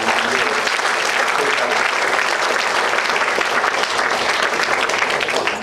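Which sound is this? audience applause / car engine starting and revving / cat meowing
audience applause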